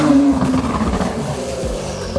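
An Acura NSX Type-S hybrid supercar's engine and exhaust give a steady, loud, close roaring rumble that holds throughout without a break.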